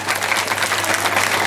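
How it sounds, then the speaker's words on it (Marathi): An audience at a school's annual gathering and prize-giving ceremony claps loudly and steadily, a dense wash of applause filling the hall throughout. "तर त्यांच्यासाठी एकदा जोरदार टाळ्या"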